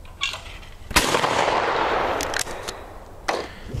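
A shotgun fires during clay target shooting, one sharp loud blast followed by a long rolling outdoor echo, with a few fainter knocks and clicks around it.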